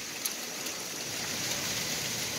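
Pea-size hail from a tornado-warned storm patters steadily onto surfaces outside a storm door, a dense, even hiss of many small impacts at moderate distance.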